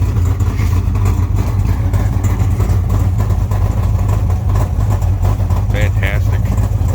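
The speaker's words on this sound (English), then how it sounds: "The sweet sound of 426 Hemi in the morning." A 1970s 16-plug Pro Stock 426 Hemi sits idling on a morning warm-up, its deep, lumpy rumble steady and loud, with voices speaking over it.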